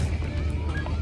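Geese resting on the water at a scenic lakeside spot honk briefly over steady outdoor ambience, close and moderately loud for about a second.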